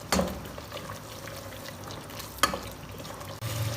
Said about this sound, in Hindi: इसकी अब हम करते हैं अच्छी तरह से भुनाई